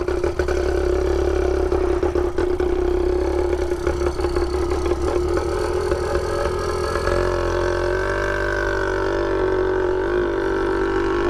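A motorized Brandani Cross bicycle's small gasoline engine runs loud and close, a raw buzzing idle with rattly clatter and slight rises and falls in pitch throughout.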